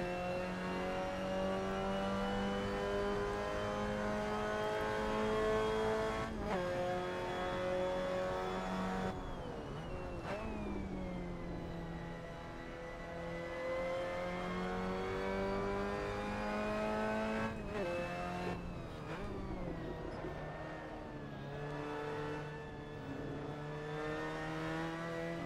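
MX-5 Cup race car in the RaceRoom sim at Okayama, its engine droning loud and close, climbing in pitch through each gear, cutting briefly on upshifts and dropping on braking before revving up again.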